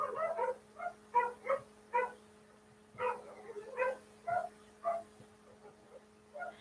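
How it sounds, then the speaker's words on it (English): Several dogs bark outdoors at a moderate distance, a series of short yips and barks in irregular bursts with brief pauses, fairly faint against a steady low background hum. "And that dogs are barking out there."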